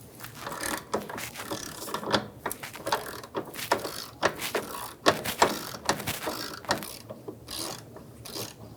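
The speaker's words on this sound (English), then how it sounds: "Using a 21mm wrench, we're going to hold the nut while using an 18mm socket to remove the bolt." A ratchet with an 18mm socket is worked on a lower control arm bolt of a 2000-2007 Ford Focus, giving loud, rapid clicking pawl bursts in repeated strokes with brief pauses, close up and with no talking.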